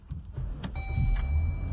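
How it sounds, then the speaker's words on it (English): A 2012 Jeep Grand Cherokee with keyless go starts up: a brief mechanical click and crank, then a steady low engine idle hum with faint high electrical whine, close by and alone. "start the car. There it is, 2012 Jeep Grand Cherokee with keyless go."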